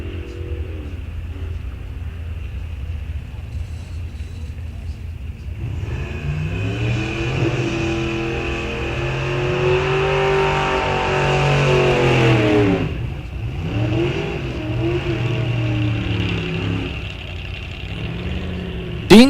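Drag racing car at Rock Falls Raceway accelerating hard through the gears, a loud, sustained engine roar with rising pitch sweeps and shift breaks, heard over about twenty seconds.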